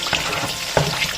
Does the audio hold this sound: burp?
no